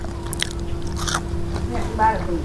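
Someone bites into crispy fried pork with chili dip, giving a few close crunches and chewing sounds while a voice talks over them.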